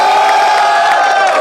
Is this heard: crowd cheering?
yes